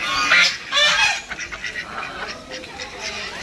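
Ducks at a Sindhudurg aquarium site quacking nearby, several harsh nasal calls in quick bursts, louder at first and then in shorter, fainter repeated quacks, with background murmur beneath.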